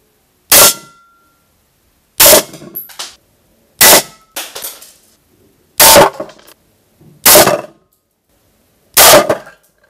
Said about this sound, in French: j'ai tiré un seul plomb, un Barracuda Hunter